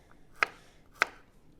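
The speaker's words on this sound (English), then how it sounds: "my best tip for garlic is just keep chopping away" A knife chops garlic on a cutting board with two sharp, crisp strikes about half a second apart, close and fairly quiet, with no talking.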